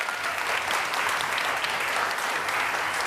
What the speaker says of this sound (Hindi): आपकी बहुत सारी तालियों में बुला रही हूँ डॉक्टर जमील राठौर साहब को